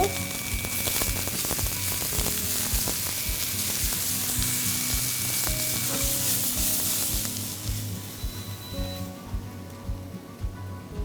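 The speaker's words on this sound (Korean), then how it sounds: "저는 따로따로 볶지만 뭐 함께 볶으셔도 괜찮아요. 소금 간 조금 해주시고" Onion sizzles loudly as it is stir-fried in a pan with a little cooking oil and a pinch of salt; the dense, close hiss holds steady, then thins out near the end with faint stirring.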